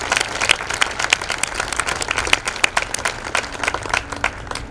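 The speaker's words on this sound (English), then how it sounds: "join me in a round of applause for all those and their families who served" A parade audience at a 2019 military honors event gives a round of applause, with dense, steady clapping from many hands and no talking.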